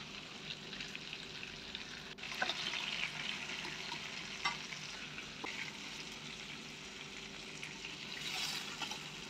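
Chicken leg pieces fry in hot oil with a steady, even sizzle and crackle. It is moderately loud, with occasional stirring sounds and no talking.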